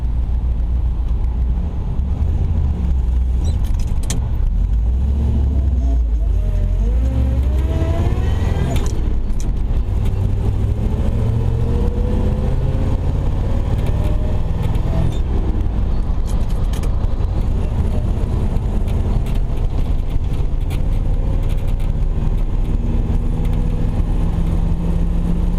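A 1977 Chevy C60 race car hauler truck, long unused, drives on the road with a steady engine drone and road rumble throughout, the engine pitch rising and falling as it shifts and accelerates, loud and close from inside the cab.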